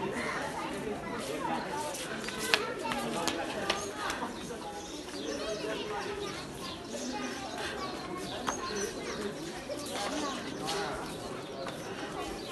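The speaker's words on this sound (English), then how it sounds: "Yeah, that's pigeon paradise, that one, isn't it?" Pigeons coo softly and steadily at Hariti Mata temple in Kathmandu, blended into a busy wash of crowd chatter and outdoor bustle, with a few faint sharp clicks.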